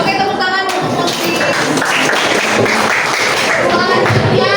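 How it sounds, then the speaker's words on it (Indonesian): A classroom audience claps for a student named Putri, with steady, dense applause running the whole time along with scattered thumps and children's voices mixed in. "Oke, tepuk tangan untuk Putri."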